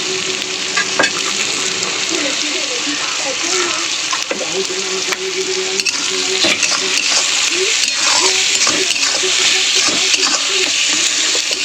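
Chopped onions and tomato with salt frying in a pan, a loud continuous sizzle with frequent scraping stirs and light utensil knocks against the pan, close by and steady, with no talking.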